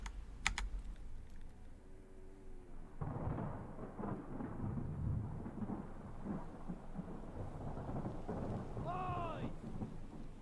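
A thunderstorm in the game Return of the Obra Dinn, with a low rumble of thunder and steady rain after a sharp onset, alongside nearer keyboard tapping and a brief tonal effect near the end.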